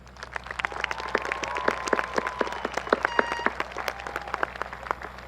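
Steady applause from a crowd at the Casa Grande Union High School Class of 2022 graduation ceremony, sustained clapping filling the hall for several seconds with a faint tone in the background.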